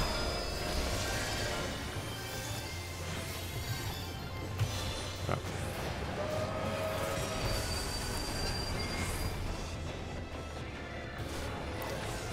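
A train in Final Fantasy XIV rumbles steadily with clanking wheels and metallic squeals, close and continuous throughout, with a couple of sharp knocks in the middle.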